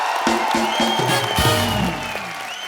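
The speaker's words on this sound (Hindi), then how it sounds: "शाहरुख भाई के लिए जोरदार तालियां" A television studio audience applauds and cheers for Shah Rukh Khan in a loud, dense wash of clapping, with a few sharp low thumps early on and the applause easing slightly toward the end.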